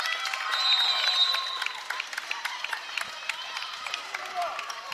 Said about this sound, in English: Both squads deserve a round of applause